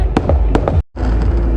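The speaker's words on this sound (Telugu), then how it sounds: "టపాకాయలు పలిగిపోతూ ఉన్నాయి గట్టిగా" New Year firecrackers bursting loudly on January 1 in Islampur, West Bengal, several sharp close bangs in quick succession, a brief gap, then a dense crackling barrage.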